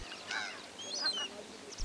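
Egyptian goose calls, honking and nasal, repeated a few times at moderate distance over a steady outdoor hiss, in Mauritania.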